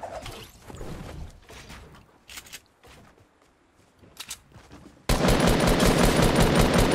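Video game gunfire during streamed play: scattered quieter shots and clatter at first, then a loud, dense, continuous burst of rapid fire that fills the final two seconds.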